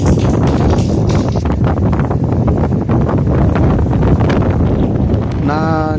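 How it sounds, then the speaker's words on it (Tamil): Strong, steady wind blowing in off the Bay of Bengal at Dhanushkodi, the last land of India on the Indian Ocean border, roaring continuously and loudly against the microphone with faint voices underneath. "காற்று இன்னும் பயங்கர ஃபோர்ஸாக இருக்குது"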